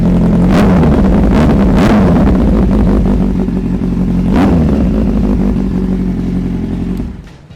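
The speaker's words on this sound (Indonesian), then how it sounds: "gue bakal cek sound knalpot si Z800 merek Spark ini." A Kawasaki Z800 with a short Spark silencer roars close by, blipping the throttle in three or four sharp revs over a heavy idle before the engine cuts off.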